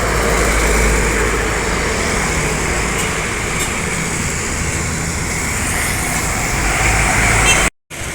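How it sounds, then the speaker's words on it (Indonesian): Damri bus arriving off the Indralaya toll road near Palembang, a steady broadband engine and road rumble that holds fairly loud throughout, with a brief dropout near the end. "ini kedatangan bus dari tol Indralaya ya."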